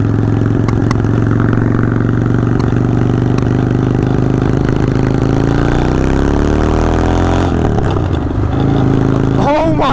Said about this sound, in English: Oh my God, this is first gear.